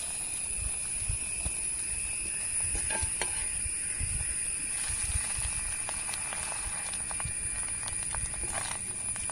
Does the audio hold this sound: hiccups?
no